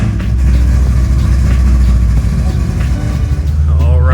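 A Corvette C6 Z06 engine starting and idling at drift week, heard as a loud, steady, deep engine rumble close by that holds through the stretch and changes a little near the end.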